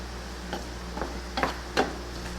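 Enchilada sauce mixture stirred in a pan with the heat off, several soft scraping strokes spaced about half a second apart over a low steady background.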